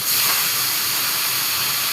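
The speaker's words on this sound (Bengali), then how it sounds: "পেটির মাছটা এখানে ভাজা হচ্ছে।" Steady, loud sizzling hiss of fish belly pieces frying in hot oil, continuous and close, with no voices.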